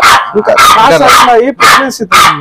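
Pomeranian puppies bark and yip sharply in close, loud bursts, mixed with excited voices.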